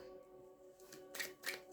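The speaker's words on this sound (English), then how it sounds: "Get you some good shuffles in" Quiet riffling and soft flicks of tarot cards being shuffled, two brief bursts close by over a faint hum.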